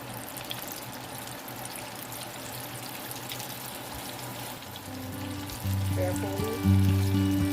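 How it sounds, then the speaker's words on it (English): Chicken tenders go into hot grease for deep frying, giving a dense close crackling sizzle that swells louder as more pieces drop in, with a voice faintly underneath. "let's get our chicken in to that hot grease"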